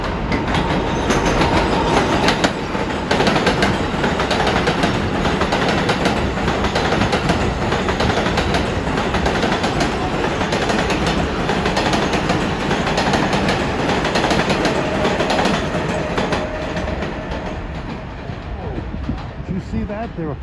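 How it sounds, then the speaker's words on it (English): A New York City 7 line express subway train bound for Flushing roars into an elevated station, loud and continuous, with rattling wheels and clatter from the cars, while a voice talks over it. "here comes an express train to Flushing"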